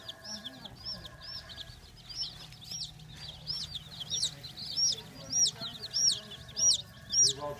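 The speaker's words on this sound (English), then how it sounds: "Come on down and see the baby chicks" Baby chicks at a hardware store peep in a quick, repeated high chirping that grows louder and denser toward the end, with a voice talking faintly beneath.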